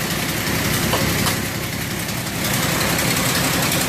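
A 1929 Chevy rat rod engine idles close by, a steady, rough, loud rumble with an even mechanical clatter and no voices.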